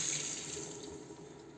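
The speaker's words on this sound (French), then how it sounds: "Je vide le contenu du robinet." Water runs steadily out of a kitchen mixer tap with a pull-out spray head as it is drained before changing its ceramic cartridge, a close, continuous hiss that fades slightly near the end.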